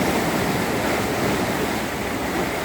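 Water rushing and churning in a canal at Falkirk, Scotland, a continuous broadband wash of close, steady flow with no voices over it.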